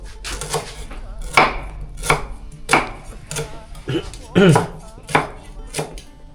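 A knife chops food on a cutting board in steady, sharp, close strikes, about one or two per second, with light clatter between cuts.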